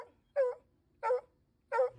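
A dog demanding attention gives three short, sharp barks at an even, insistent pace, close and clear against a quiet room.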